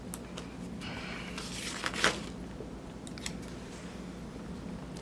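Scissors cutting out a paper planner disc page, a few crisp close snips and a longer rasping cut through the sheet, with light paper rustling around it.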